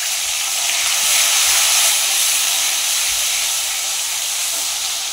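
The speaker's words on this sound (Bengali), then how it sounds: "এবার দিব আদা রসুন বাটা।" Ginger-garlic paste hitting hot oil with fried onions and panch phoron, giving a steady, loud, bright sizzling hiss that runs unbroken throughout with no voices.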